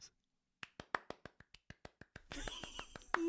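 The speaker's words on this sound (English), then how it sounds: "I think I deserve a round of applause." About a dozen sharp, evenly spaced hand claps ring out close by against near silence, then give way to a burst of louder noise with a few final claps.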